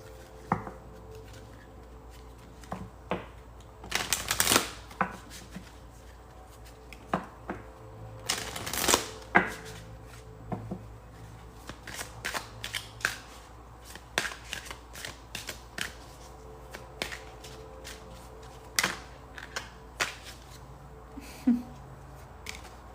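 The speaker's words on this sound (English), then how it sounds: "let's pull an oracle card here" A deck of oracle cards is shuffled with soft, quick riffling and sharper snaps, faint and close, continuing in irregular bursts throughout with no talking.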